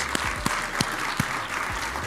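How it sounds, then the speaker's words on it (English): A conference audience at a LibertyCon International evening social gives a round of applause for the speakers, a dense, even wash of many hands clapping with a few sharper claps standing out, no talk. "Let's just give another round of applause for our fantastic speakers we had tonight."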